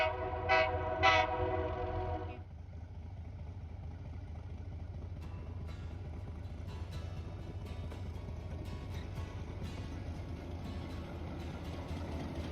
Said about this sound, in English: Taking the historic narrow gauge line into Silverton was pretty cool.